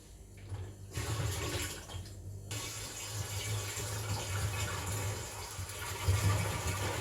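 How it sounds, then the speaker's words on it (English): Water pours steadily into a homemade wine fermenter, a continuous rushing flow with a low gurgling rumble that holds at an even level for several seconds, close and alone without speech. "Time to add the rest of the water."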